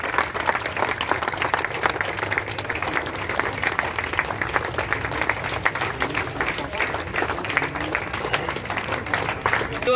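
Crowd at a district-level football competition breaks into steady applause to welcome the chief guest, a dense, continuous wash of many hands clapping at moderate distance with faint voices mixed in.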